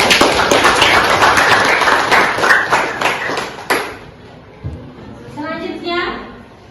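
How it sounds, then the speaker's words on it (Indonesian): A classroom group gets applause after presenting, with a burst of brisk clapping from many hands in the first few seconds that fades quickly, followed by a voice talking. "Kita beri aplaus untuk kelompok"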